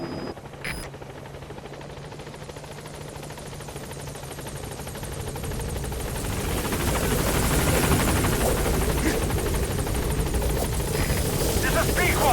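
Helicopter arriving at a landing zone in Metal Gear Solid V: The Phantom Pain, a steady rotor drone and chop that swells louder as it nears, with game speech over it.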